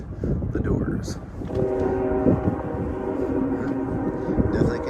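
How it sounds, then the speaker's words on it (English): A train rumbles along beside the Potomac River near a stone fort, a low sustained drone with a steady tonal hum, heard at a distance while someone talks over it. "Definitely can hear a train coming up"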